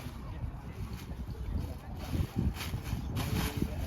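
Gusty wind rumbles and buffets the microphone outdoors while a paraglider is packed, the blustery noise swelling toward the end under a person's speech.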